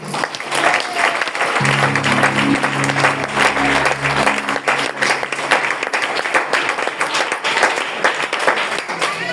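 A church congregation applauds during a worship service, a dense, steady crowd clapping filling the whole stretch, with a low hum from the hall briefly underneath.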